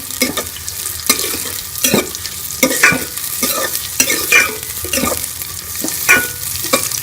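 Chopped onions frying and browning in a pan for a capsicum and potato dish, with a steady sizzle broken by repeated scraping stirs of a spoon at a regular rhythm, close and fairly loud.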